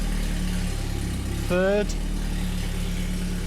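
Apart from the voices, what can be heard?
Vauxhall Cavalier engine running while shifting gears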